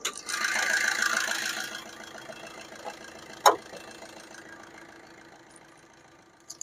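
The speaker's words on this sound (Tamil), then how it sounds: "வண்டியோட இன்ஜின் இப்போ ரன்னிங்கில் தான் இருந்துட்டு இருக்கு." A Maruti Swift Dzire car in showroom condition idles with a low, steady engine hum, recorded close by with a single sharp click midway and no talking.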